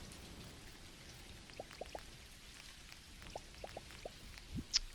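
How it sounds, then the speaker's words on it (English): Soft rain falls in the game Dinkum, faint steady patter with scattered individual droplet ticks and a few small splashes, quiet and distant, no talking. "Well, it is raining."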